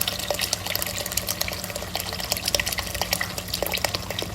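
Beef stock pours into a pot of beef ragu, a close, continuous splashing liquid stream with small bubbly plops, heard alone without talk.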